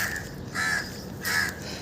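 Several crows caw in harsh bursts while attacking, about three loud calls in quick succession close by, with no talking.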